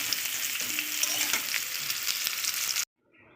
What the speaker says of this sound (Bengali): ঝিঙেও আমি হালকা করে ভেজে নেব, আলু আর ঝিঙে ভেজে নেবো